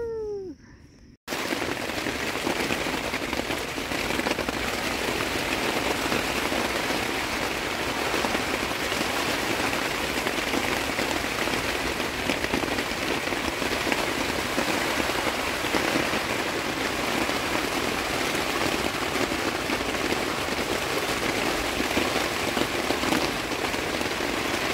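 Heavy rain pours down steadily on a tarp outdoors, a dense, loud, unbroken hiss of drops that runs on for over twenty seconds after a brief quiet moment at the start, with no voices.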